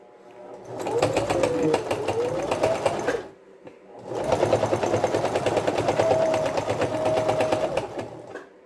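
A sewing machine stipple-quilts a denim pot holder, its fast needle rattle running steadily in two long bursts split by a short pause near the middle, close and fairly loud with no talking.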